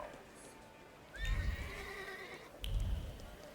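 A horse whinnies twice, each call high and quavering and loud against a quiet background, with soft hoof thumps under each one.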